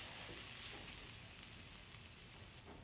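Onion, ginger and garlic sautéing in a pan, with a steady close sizzle and frying hiss that runs evenly throughout, plus faint stirring.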